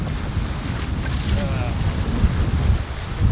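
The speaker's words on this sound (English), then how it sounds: "We got the wind working against us." Wind blows over a boat on a river, making a continuous rough buffeting rumble across the microphone with water noise underneath.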